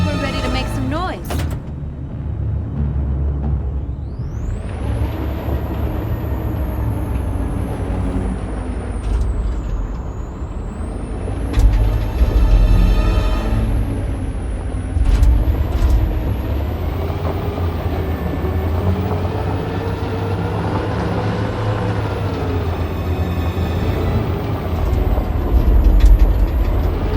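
A truck in Detroit: Become Human starts with a hiss of air brakes, then its engine rises and falls as it drives off, a loud low rumble with whining tones throughout, with voices talking over it at times.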